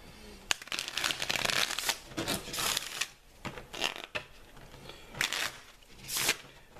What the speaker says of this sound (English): at the beginning of every turn, everyone shuffles their deck